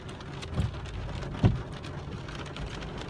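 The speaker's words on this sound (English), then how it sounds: "This is Saturday night now, and it's raining again." Steady rain falls outdoors on a Saturday night in Scotland, a continuous broadband hiss of drops hitting surfaces, with two brief heavier thumps or splashes near the start and no one speaking.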